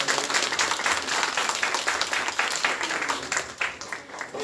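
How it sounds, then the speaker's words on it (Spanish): An audience at the close of a law lecture on notarial eviction applauds in one continuous, fairly faint wash of clapping that holds steady throughout. "quisiera pedir un fuerte aplauso"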